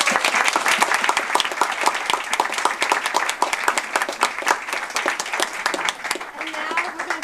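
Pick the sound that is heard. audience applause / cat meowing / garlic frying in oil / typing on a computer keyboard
audience applause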